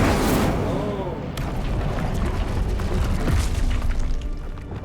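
Incendio fire spell cast in the Hogwarts Legacy video game, a loud whooshing, booming burst that flares and crackles, followed by rumbling impacts and lingering fiery noise.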